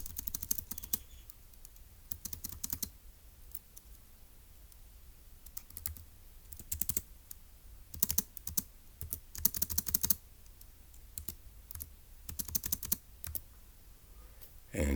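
Computer keyboard typing comes in short bursts of quick, close clicking keystrokes, separated by quiet pauses, with a faint low background hum.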